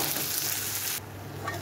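Small peeled shrimp coated in turmeric and a little salt sizzle in a hot pan with a steady, close frying hiss that softens after about a second.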